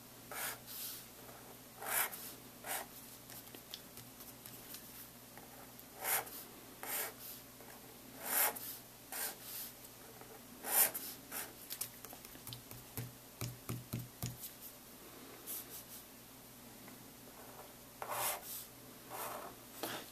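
A pen or marker drawing on a board: soft, scratchy strokes come in short irregular bursts, quiet and close, with no talking.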